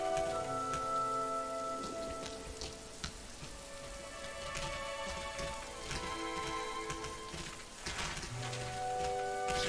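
Rain in the video game Rain falls steadily, a soft continuous patter on surfaces with a faint tonal hum beneath, no voices.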